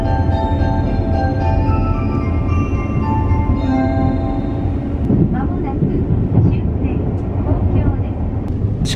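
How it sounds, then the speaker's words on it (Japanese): A train pulls into platform 8 at Tokyo Station in the morning, a steady loud rumble with a held tonal whine and brief clanks toward the end, heard from close by on the platform. "流れまして、朝の東京駅8番線に入線していきます。"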